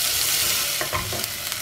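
Medium-sized onions sauté in a pan over seasoning, giving a loud, close, steady sizzle with a few short spatula scrapes near the end and no talking.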